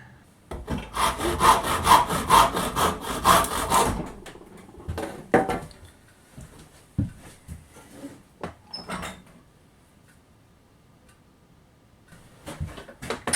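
A hand saw cuts corners off a wooden block for a toy, rapid close rasping strokes for a few seconds, then scattered knocks, handling sounds and quieter intermittent sawing.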